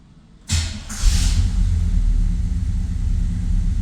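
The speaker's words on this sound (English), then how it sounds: "Fires right up." A 1966 Oldsmobile Delta 88 engine cranks and fires up abruptly, then settles into a steady, loud, low rumbling idle heard close up.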